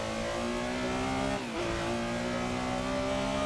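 A 1973 Porsche 911 RSR Gr.6 racing at the Targa Florio in Assetto Corsa holds a loud, steady engine drone that dips abruptly during a downshift, then settles into a continuous roar as the car slows. No one speaks.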